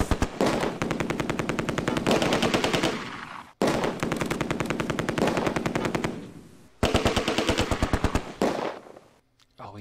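An MG42 machine gun fires in the video game Close Combat 2, in three long, loud, rapid bursts with short pauses between them, alone with no talk.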